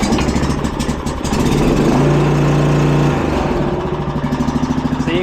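Snapper Pro 36-inch hydrostatic walk-behind mower engine running loud and close outdoors, a throbbing steady drone that rises in pitch and settles back, alone with no voices.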